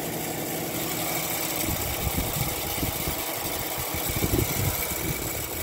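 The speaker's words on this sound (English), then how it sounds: "That compressor sound is just awesome." An Emerson Quiet Kool window air conditioner runs with its compressor on, giving a steady low hum and mid-range drone that rises into rougher rattling vibration partway through. No voices are heard.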